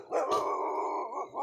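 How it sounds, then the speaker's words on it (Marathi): A village dog barking from a distance, one sustained, drawn-out bark that trails into a wavering howl and ends on a brief second yelp. "ते बघा आमचं शेरू तिकडून भुकत आहे."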